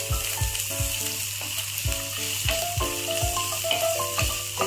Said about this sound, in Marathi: मस्त असं परतून घेऊया।